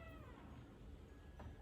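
Indoor house cats meow briefly, a couple of short, fairly faint calls over a low background hum, with no talking.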